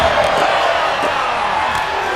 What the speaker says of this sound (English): The crowd is going absolutely crazy right now.